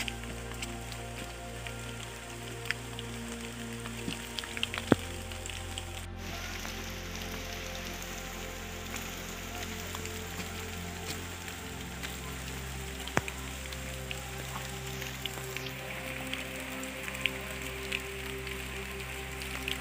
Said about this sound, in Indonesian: Rintik air hujan pun masih setia menemani perjalanan kita